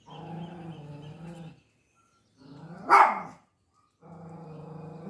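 Dogs outdoors bark and howl in drawn-out, tonal bursts, first a sustained stretch, then a sharper cry after a short silence, then more barking, heard from some distance outside.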